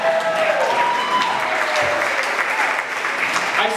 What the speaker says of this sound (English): let's give Connie a round of applause.